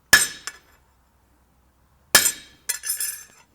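A hammer strikes a hardy or chisel to mark hot steel at a blacksmith's anvil, ringing out in sharp metallic clinks: one hit, a brief echo, a pause, then a loud strike followed by a quick double tap.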